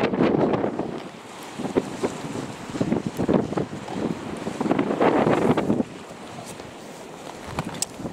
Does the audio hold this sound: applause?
no